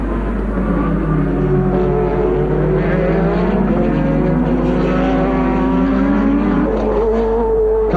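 Two 1983 Formula 1 cars, a BMW turbo and a Renault turbo, race side by side into a corner, their loud, continuous engine howl rising and falling in pitch with gear changes and no talk.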